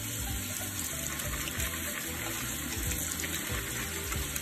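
Steady running water pours and splashes continuously, like a tap draining into a sink, as dyed wooden beads are rinsed, with no voices.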